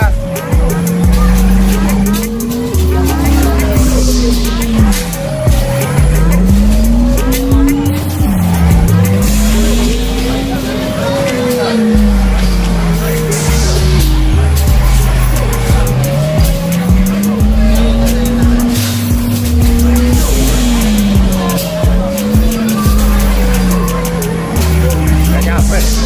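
Racing video game motorbike engine revving and accelerating continuously, a loud whining tone rising and falling in repeated sweeps, with tire-squeal-like game effects and a person talking over it throughout.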